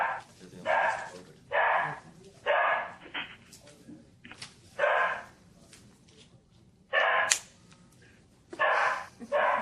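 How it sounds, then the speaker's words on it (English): A dog barks in a meeting room during a cemeteries board session, loud repeated barks in short bursts with pauses between them and quiet room noise. "there's the dog"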